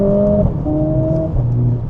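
Mercedes-AMG A45 S hot hatch pulling hard in third gear, a loud close engine tone rising in pitch with a brief dip as it climbs, alone with no talk.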